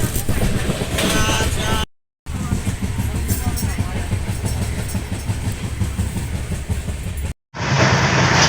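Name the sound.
train running on rails at night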